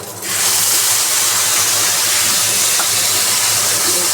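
Yogurt hits hot oil in a pan of fried eggplant, bursting into a loud, steady sizzle that jumps up suddenly and holds as a dense, close hiss.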